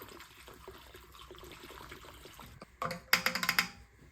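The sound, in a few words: fuel being poured into a vintage Suzuki SE500A generator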